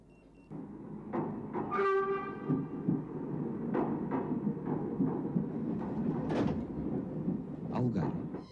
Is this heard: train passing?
yes